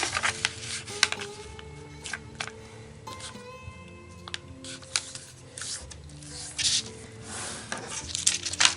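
Printer paper being folded and creased into an origami double-box bookshelf, with soft close rustles, rubs and sharp crease swipes scattered irregularly at low volume, no voices.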